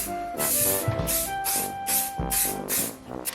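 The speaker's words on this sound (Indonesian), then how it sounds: "Hairspray lagi." Hairspray sprays onto hair in a series of short hissing bursts, about six or seven of them, close and fairly loud, alongside other rustling handling noise.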